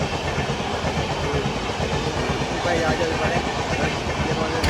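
A train runs past a railway level crossing near Bardhaman, its steady loud rumble filling the scene with faint rhythmic wheel clatter, while people talk over it.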